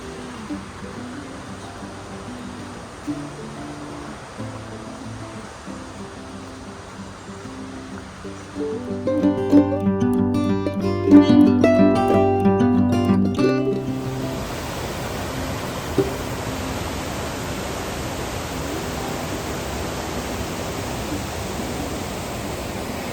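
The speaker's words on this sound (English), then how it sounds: "Just feel the power of that river." A powerful river rushes with a broad, steady roar that swells louder midway, with clattering and knocking mixed in, then settles back to a constant wash of water.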